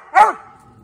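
A hound dog gives a single loud, close bark while treeing, short and sharp, followed by near silence.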